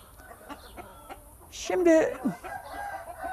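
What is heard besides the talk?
rooster crowing, Istanbul rooster breed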